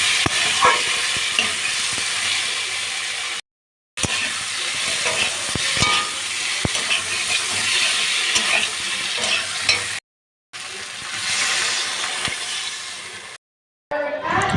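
Spices being sautéed in a pan for a catfish (magur) curry, a steady frying sizzle with repeated stirring scrapes, broken by a few short silent gaps.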